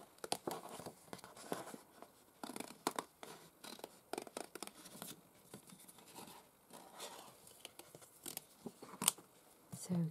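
Scissors snip a rub-on transfer sticker in a series of close, crisp cuts, with soft handling rustles and paper scratches between them and a voice speaking quietly.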